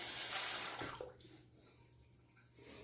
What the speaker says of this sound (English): All right, rinse the razor.